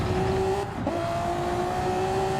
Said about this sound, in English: And Boybagum, you can hear it just in the way the engine's going. He is not holding back right now